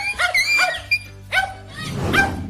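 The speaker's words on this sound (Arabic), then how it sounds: "وقررت إخافة الكلب الذي ينبح" A dog barks in a few sharp, close bursts, then whimpers and yips, the calls spaced over a couple of seconds and loud against otherwise quiet surroundings.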